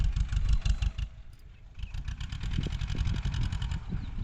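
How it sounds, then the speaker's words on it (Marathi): A tractor's diesel engine chugs steadily with a rough, rhythmic clatter, running nearby in a farm field throughout without pause. "इकडे मस्त वेगळी ट्रॅक्टर चालू आहे"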